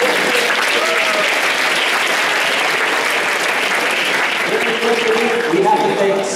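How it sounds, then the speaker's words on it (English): An audience at a Savannah speaker series gives a round of applause to the JCB company, steady dense clapping that carries on throughout, with faint voices in the room beneath it. "So give JCB a round of applause and thank them for helping."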